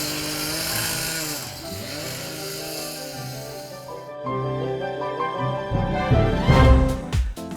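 A power saw cuts pavers for curved, mitered edges on a residential walkway, giving a steady whining drone that fades out, then a harsher, louder grinding burst near the end.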